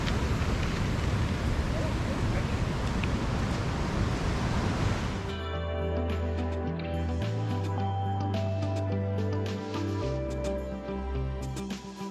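A loud, steady roar of falling water from National Park Falls in John Forbes National Park, near Perth, Western Australia, fills the first few seconds, then cuts abruptly to quieter tonal sounds.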